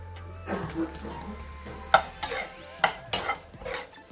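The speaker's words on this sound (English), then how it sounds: "So I'm gonna toss some of my shrimps in." Shrimp hit a hot pan for General Tso shrimp taco bowls, setting off a close, steady sizzle broken by several sharp utensil clacks and scrapes as they are stirred and tossed.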